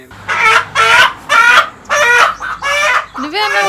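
Country chickens on a farm cluck and squawk loudly and close by in a run of six short bursts with brief gaps, one ending in a rising cackle.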